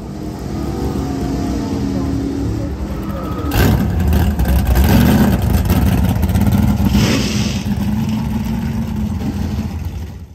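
A vintage drag racing car engine at a Holley MoParty event in Kentucky, rumbling loudly throughout with a sharper surge of revving partway through, blended with crowd and background noise.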